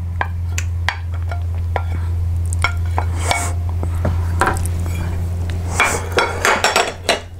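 Softened butter, cut into small squares, being mixed by hand in a bowl for banana bread, giving repeated close scraping and clinking strokes of a utensil against the bowl over a steady low hum.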